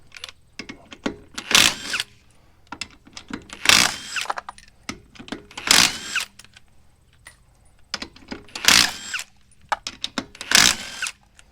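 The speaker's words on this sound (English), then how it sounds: "impact gun." A 22 mm pneumatic impact gun spins lug nuts off the front wheel of a Honda Ridgeline, firing in repeated loud, rattling bursts of roughly a second each with quiet gaps and small clanks between them, close up.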